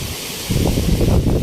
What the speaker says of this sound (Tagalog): Nalakas pa rin ang hangin guys.